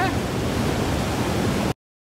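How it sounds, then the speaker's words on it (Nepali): Fierce river water rushes loudly and steadily in a broad, continuous roar close by, cutting off abruptly near the end. "यस्तो छ खोला एकदमै भयङ्कर"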